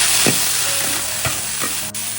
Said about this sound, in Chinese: 咱们去炒菜。 清油、姜蒜，这野芹菜要么炒豆豉，要么炒腊肉都好吃。